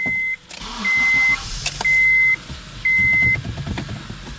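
A Honda CR-V with ABS and VSA fault codes is started; three evenly spaced electronic warning chimes sound over a low engine rumble, with no one talking.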